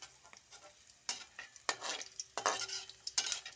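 Taro (arbi) tipped into chillies frying in a pan and stirred, with bursts of sharp sizzling and spoon scrapes against the metal, close, loud in several surges, no voices.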